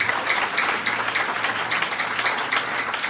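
A church congregation applauds together, a dense, continuous patter of many hands clapping at moderate loudness throughout, with a low hum underneath.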